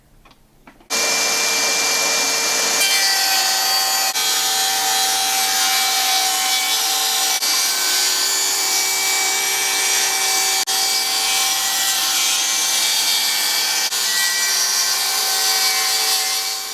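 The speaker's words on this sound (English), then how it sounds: "Here we're going to cut the filler." A saw cuts through a wooden filler strip for a bathroom vanity cabinet, starting abruptly after a brief quiet moment and then running as a loud, steady, unbroken cutting noise for the rest of the span.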